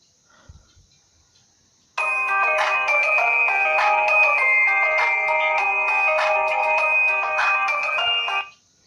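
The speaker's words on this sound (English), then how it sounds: "And here's a ringtone on this one." A randomly chosen ringtone plays loudly through a phone's built-in speaker, a bright, steady melodic tune that starts abruptly and runs for about six and a half seconds before cutting off.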